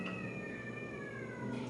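A cat lets out one long, drawn-out meow that slides downward in pitch, over steady background noise.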